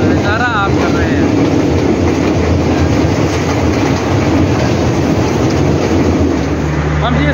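A passenger train rumbles steadily across a bridge over the Chenab river in Pakistan, a loud continuous roar of wheels and carriage noise with some faint background chatter.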